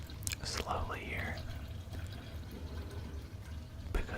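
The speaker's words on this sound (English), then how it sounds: "We're pouring slowly here" Homebrewed beer wort poured slowly into a glass fermenter, a soft, steady liquid trickle under quiet, close whispering.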